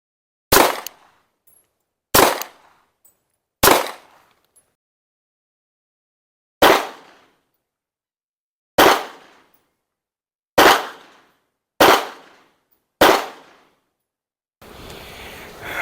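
A rifle fired at a shooting range cracks eight times in irregular succession, each sharp, loud report trailing off in a short echo, followed by a stretch of low rustling noise.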